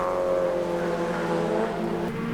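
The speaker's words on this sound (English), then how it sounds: "we do get a restart and we are up and racing under the green flag once again" Several race cars accelerate together on a restart under the green flag at Klerksdorp, a loud, continuous engine roar that holds steady and sweeps slightly in pitch, close by with no voices.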